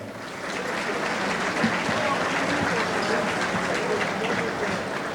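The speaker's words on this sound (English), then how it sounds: "How about a round of applause?" An audience at a formal dinner honouring Ford Motor Company figure Robert F. Tasca Sr. breaks into sustained applause, a thick, even roar of many hands clapping that holds steady for several seconds.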